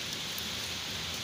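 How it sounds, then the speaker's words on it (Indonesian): Steady rain falls beside an overgrown, neglected fish pond during eel fishing, a continuous broadband hiss of drops with no voices over it. "Nunggu hujan reda."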